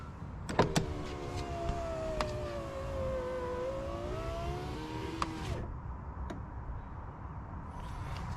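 A power window motor in a Lexus LX/GX 470 whirs as the glass travels down and then back up, a smooth steady hum between a few soft clicks and thumps, followed by quiet.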